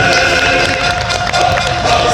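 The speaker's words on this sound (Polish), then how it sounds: "Wielkie brawa dla pana prezydenta!" Large outdoor crowd at a battle reenactment parade in Płock applauds the city president, a continuous wash of clapping and cheering heard from a distance, mixed with a steady background hum.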